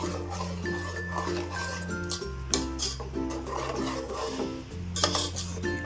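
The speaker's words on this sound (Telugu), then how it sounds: "పేస్ట్ వేసిన తర్వాత బాగా మిక్స్ చేసుకున్నాం." Spoon stirring tomato paste into paneer pulao in a metal pot: steady scraping and clinking with light metallic chinks over a constant low hum; no talking.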